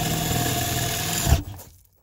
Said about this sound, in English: I'll go in with a 3/8 drill.